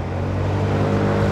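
A Honda Forza 300 scooter accelerates hard to overtake, a steady mid-pitched engine drone rising gently in revs over road and wind noise, close and continuous, with no talking.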